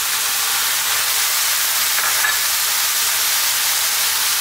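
Chopped fresh tomato hitting a hot pan of cooking mushrooms for a potato mushroom curry gives a loud, steady, even hiss and sizzle with no break.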